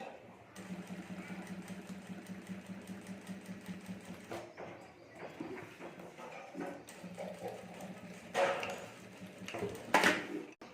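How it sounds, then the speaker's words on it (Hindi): Sewing machine stitching a zip under a fabric strip on a homemade clutch bag, running in steady whirring bursts with brief pauses and a few louder clanks near the end, close and fairly quiet. "अब यहाँ मैं सिलाई कर देता हूँ"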